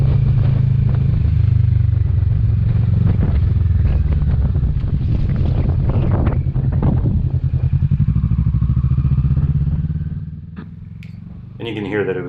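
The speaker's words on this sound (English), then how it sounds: "you can hear that it was a very windy day" Strong wind buffets the microphone during a Kawasaki Vulcan S 650 motorcycle ride as a loud, continuous low roar mixed with engine drone, then drops away sharply near the end.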